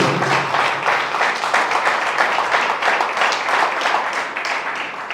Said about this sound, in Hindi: ताली बजा लीजिए परमेश्वर के लिए।